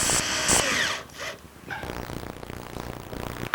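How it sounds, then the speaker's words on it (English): A power drill drives screws up from underneath into a wooden cupboard in a woodworking shop, heard as close whirring bursts with short pauses between, then a steadier grinding run. "Now I'm going to put a couple screws from underneath to secure it."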